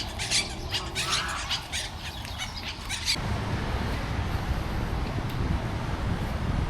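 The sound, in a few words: parakeet squawking in a park in Athens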